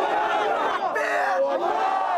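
Large protest crowd of about a thousand people in London chanting anti-US slogans, a dense continuous roar of many voices rising and falling in unison.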